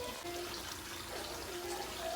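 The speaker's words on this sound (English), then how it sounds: "I'll put a bit more water in. I've just refilled up my jug." Water pours from a jug into a pan of Carolina Reaper chilli curry, a steady soft gush with a faint sizzle beneath it.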